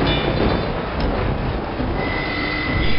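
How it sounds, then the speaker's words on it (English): A train rolls past in the video game Team Fortress 2 on the Thunder Mountain map, a steady loud rumble of wheels and cars with a thin high whine, no talk over it. "Oh my god, it's a fucking train!"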